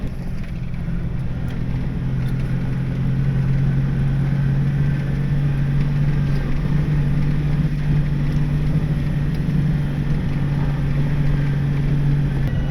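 An off-road Jeep drives a rutted, icy hardpack trail, its engine giving a steady low drone with constant rumble and rattle throughout, loud and close, with no talking.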